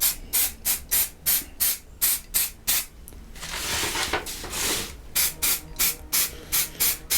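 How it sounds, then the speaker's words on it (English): Black primer hissing from a spray paint can onto Primaris Space Marine miniatures: a dozen short, rhythmic close bursts, broken mid-way by one longer continuous spray, with no talking. "Obviously I'm spraying with black because I will be painting them black"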